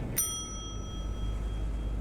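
A doorbell in The Wolf Among Us video game gives a single bright ding whose clear metallic tone rings out and fades slowly over quiet background noise.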